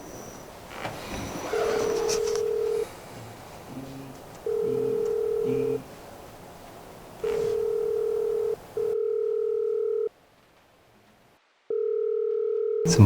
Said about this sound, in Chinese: 怎么还不接电话呢？